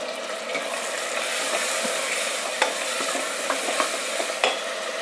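Tomatoes and onions sautéing in a pan for beetroot and peas biryani make a dense, continuous sizzle with scattered clicks and taps of a spoon stirring, close and steady, with no talk.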